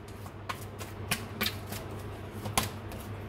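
Tarot cards are shuffled in quick, soft riffling bursts with sharp flicks, close and fairly quiet, with no talking.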